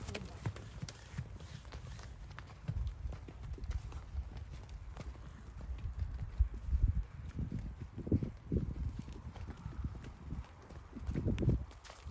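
A pony trotting in an arena during a training session, hooves thudding in a steady rhythmic beat close by, with soft background noise and occasional voices.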